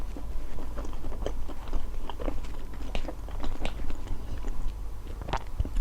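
Close-up chewing and biting of leftover pasta, with repeated wet crunches and mouth sounds in an irregular rhythm, fairly loud and without talk.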